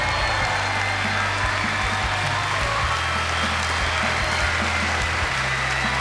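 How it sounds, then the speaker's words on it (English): Audience applause at a televised dance competition showdown in Malaysia, steady dense clapping from a large crowd throughout, loud and close with a faint cheer mixed in. "Round of applause for We taking over,"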